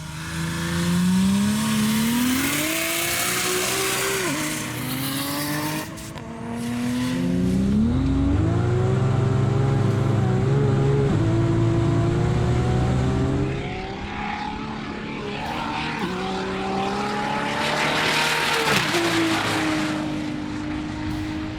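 A 1,500-horsepower Ford Territory accelerates down a runway at a drag event, its engine roaring loud with rising and falling revs through successive gear changes, heard from the side over about twenty seconds.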